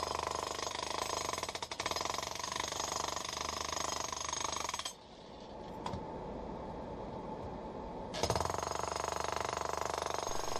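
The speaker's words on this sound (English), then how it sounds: "Using the wide chisel bit is slower than using a narrow chisel bit." M18 rotary hammer with a wide chisel bit breaking up a concrete garage floor, a steady loud rapid hammering that stops for a few seconds midway, then resumes at full force.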